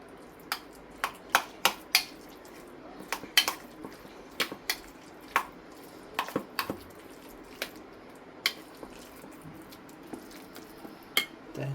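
A spoon mixes avocado pesto filling in a bowl, striking the sides in a quick, irregular series of bright clinks and taps heard up close, with no speech.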